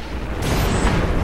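A tank's main gun fires in the video game Syphon Filter: Logan's Shadow, a loud, heavy boom with deep low rumble that sustains across the moment.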